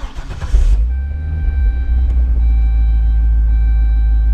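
A 2008 Callaway Supercharged 580 Corvette roadster fires up with a loud starter burst that settles into a deep, steady idle rumble with a constant whine, heard close and alone.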